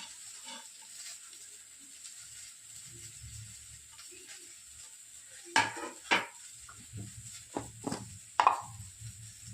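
Green chilies fry in a little oil in a pan, a steady soft sizzle running throughout while a spoon stirs and clinks against the metal in several sharp, close knocks.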